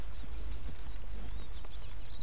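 In Red Dead Redemption 2, a horse's hooves clip-clop in a steady rhythm on the way to a stable, over a constant outdoor ambience with faint bird chirps.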